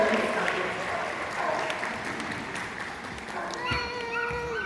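Audience applause at a sea lion show at a safari park, a sustained patter of clapping with a voice and a few higher calls rising over it near the end.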